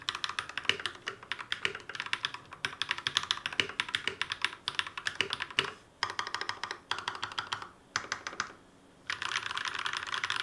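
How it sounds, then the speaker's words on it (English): Rapid typing on a Royal Kludge RK61 mechanical keyboard modded with lubed switches, a dense run of close, crisp keystrokes with brief pauses and a short gap near the end. "Let's get a little bit more typing."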